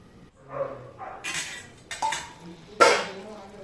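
A metal lid clinks and clatters onto a pot of simmering vadi curry, several short knocks and scrapes before a final ringing clank as it settles, close and fairly clear.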